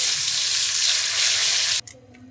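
Two bay leaves frying in mustard oil in a wok, a loud, steady sizzle that runs close and unbroken before cutting off abruptly, leaving faint clinks and low residual crackle.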